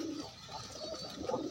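A pigeon coos softly nearby, a few low rounded murmuring calls in quick succession against a faint background, with no speech.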